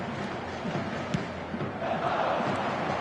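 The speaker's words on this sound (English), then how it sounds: "The crowd are calling for this to be put to bed." A football stadium crowd roars and chants after a goal by Kvaratskhelia that puts the team two up, a dense, steady mass of voices with a louder swell near the end.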